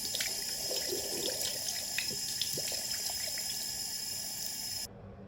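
Running tap water pours steadily over a shower filter cartridge being rinsed in a sink, a continuous close splashing flow with scattered droplet patter that stops abruptly near the end.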